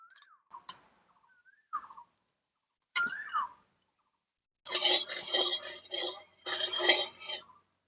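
Semolina being stirred in hot ghee in a wok, a scraping, sizzling stir in two bursts after a few faint clinks of a utensil against the pan.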